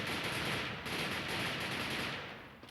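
Bursts of automatic gunfire from a gun in the shooting video game Garena Bleakout, a dense continuous rattle of rapid shots that fades slightly toward the end, with no voices.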